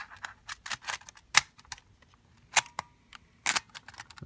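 Tape being inserted into an older Panasonic camcorder mechanism: a series of small sharp plastic clicks and snaps, close up and irregular, some louder than others, with no speech.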